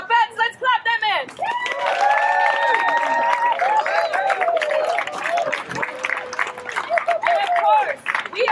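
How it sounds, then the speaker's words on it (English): An audience breaks into loud, sustained applause to welcome performers at a lively indoor event, dense clapping joined by cheers and whoops after a brief opening burst of voices. "Let's clap them in."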